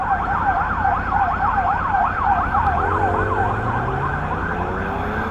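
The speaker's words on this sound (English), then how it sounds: "I hear sirens." Sirens from emergency vehicles pass along a city street near the Capitol building, a steady wailing siren rising and falling over continuous road traffic noise, loud and close throughout.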